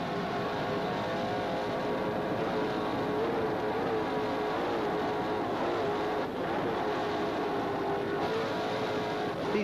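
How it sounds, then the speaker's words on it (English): Steady, loud engine drone of 1991 offshore powerboats racing across water at over 80 mph, a continuous roar with slight pitch shifts and no speech. "there you get an idea of just what it looks like in an offshore powerboat"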